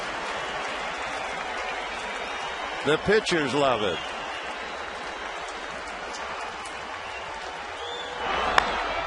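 A crowd at a baseball stadium applauding: steady clapping and cheering fill the background while a commentator speaks briefly over it, with a sharp pop near the end.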